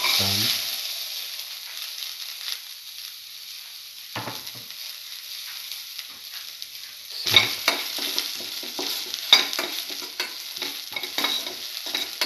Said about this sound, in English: Now put in the garlic.